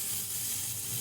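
Dal frying in a pan for a khar dish, a continuous even hiss of sizzling oil, fairly close, with no voices.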